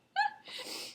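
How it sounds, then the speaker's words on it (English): A single sharp human sneeze, a quick voiced intake bursting into a breathy, hissing release, close and loud against silence. "And I think I have to sneeze."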